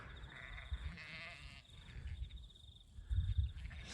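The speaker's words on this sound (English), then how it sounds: "I'll see if I can round up the sheep." Breeding ewes and yearling sheep bleat as they come in when called on a farm grazing a cover crop, a few calls rising over steady insect chirring, with louder nearby bleats near the end.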